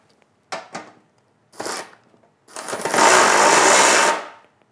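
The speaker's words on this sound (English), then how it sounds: "Now I first just tried to remove this with a power tool" An impact-style power tool runs on corroded bumper bolts of a 2014-2015 Silverado: two short bursts, then a longer, loud, sustained whir lasting over a second before cutting off, heard up close with no talk.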